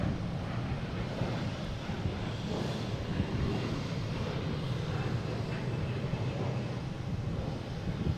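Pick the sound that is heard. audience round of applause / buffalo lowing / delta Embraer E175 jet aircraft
delta Embraer E175 jet aircraft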